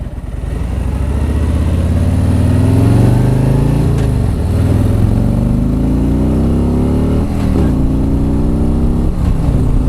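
A 2017 Harley-Davidson Street Glide Special accelerates with a loud, deep engine roar that climbs in pitch through several gear changes, heard close up with steady rumble and no talking.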